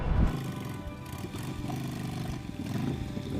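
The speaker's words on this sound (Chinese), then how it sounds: "看看他们这2个人，然后骑着一个这么小的摩托车" A small motorcycle carrying two riders runs nearby, a low, steady engine rumble with slight surges toward the start and end.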